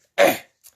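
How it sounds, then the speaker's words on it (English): A single sharp throat-clearing cough from a man reading poems aloud, close and brief, followed by a faint tiny catch of breath. "Clear my throat a little bit there."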